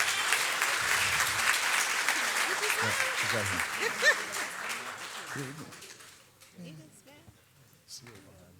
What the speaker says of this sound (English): Let's give our city treasurer a round of applause